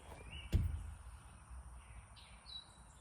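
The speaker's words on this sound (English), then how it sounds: "Hear all the birds." Faint bird calls and thin chirps in quiet open air, distant and sparse, with a soft thump near the start.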